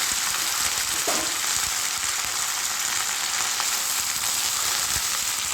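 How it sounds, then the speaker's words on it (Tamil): Drumstick (moringa) leaves and reddened chillies sautéing in hot oil in a home kitchen, a steady close hiss and crackle of frying with occasional stirring scrapes and no voices. "மிளகாயும் செவந்ததுக்கப்புறம் முருங்கைக்கீரை அதில் போட்டு நல்லா வதக்கி விடுவோம்."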